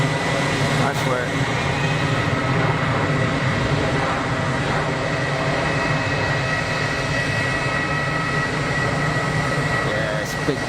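An airliner lands at Geneva Airport and runs its thrust reversers, a loud sustained engine roar that stays steady, with a faint voice briefly over it.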